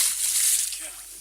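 A smallmouth bass, caught fishing, is released with a short slosh and splash back into the water. The watery burst is brief and fairly close, fading within about a second.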